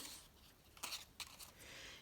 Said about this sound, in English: all you have to do is you take your scissors